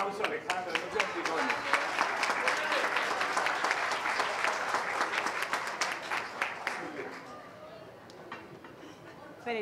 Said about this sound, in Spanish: Dele un aplauso, Alejandro.